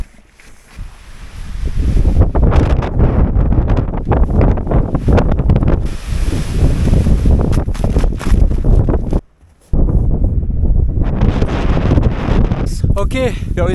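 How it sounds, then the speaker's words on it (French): Strong mountain wind gusts roar and buffet outdoors, rumbling loudly for several seconds with a brief lull, while a voice speaks under the noise. "Juste un petit peu de vent."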